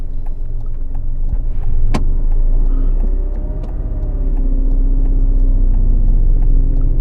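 A car engine hums steadily with a low rumble during a driving lesson, rising slightly in pitch as it revs while moving, with one sharp knock partway through.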